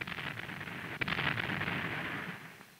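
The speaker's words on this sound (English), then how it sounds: "The gunfire support ships had their hands full, supplying called fire for the assault troops." Naval gunfire from WWII gunfire support ships firing for assault troops in the Pacific: a continuous rumbling barrage with a sharp report near the one-second mark, on a dense, noisy old film soundtrack.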